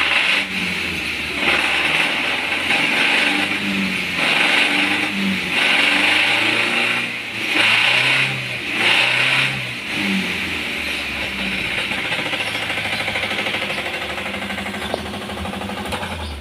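A continuous loud engine roar with pulsing rises and falls in pitch as a Suzuki Carry Futura is revved and driven, close and steady throughout.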